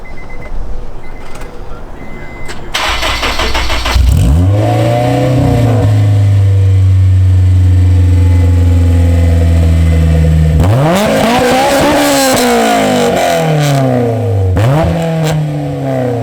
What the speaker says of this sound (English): Get some rev action.